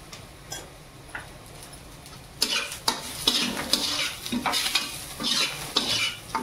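Spoon stirring turmeric into fried onion and tomato in a hot pan: after a quiet start, steady scraping and clinking strokes with a sizzle underneath, close and fairly loud.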